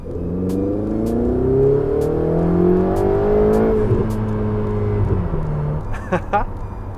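Ferrari 488 GTB in sport mode pulling hard in third gear, a loud close engine note climbing steadily in pitch for several seconds, then a brief gear-change dip and rising whine near the end.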